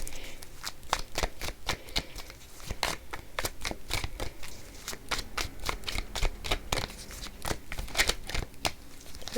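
Tarot cards being shuffled and drawn by hand: a rapid run of crisp, close riffling clicks and flicks in irregular bursts, fairly quiet with no talking.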